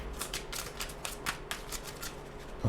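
Tarot cards are shuffled by hand during a reading, a close run of soft rhythmic riffling flicks and slaps that are fairly quiet, with no voices.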